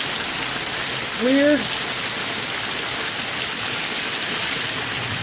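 Heavy rain pours steadily during a severe thunderstorm with flash flooding, a constant loud hiss, while someone speaks briefly over it.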